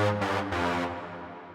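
A Diva synth lead using a preset, with a slightly altered decay, for a modern techno track: a rich, buzzy sustained tone pulsing in a few swells before fading out, heard alone.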